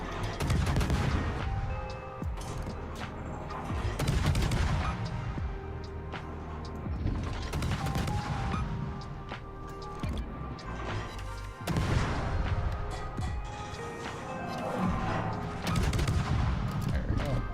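Naval guns firing in World of Warships, heavy booming salvos repeating every few seconds with rumbling tails and crashes between them, loud throughout, while a voice talks intermittently underneath.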